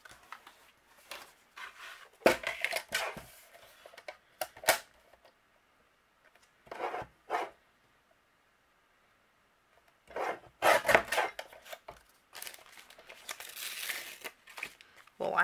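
A paper sentiment strip being trimmed for a handmade winter card, heard as close bursts of scraping, rasping and crinkling paper between quiet gaps, with a voice talking over parts of it.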